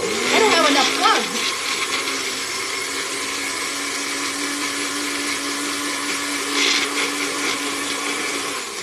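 Small NutriBullet blender whirring in short bursts, a loud high motor whine that starts abruptly and runs steadily for several seconds, with brief talk at the start.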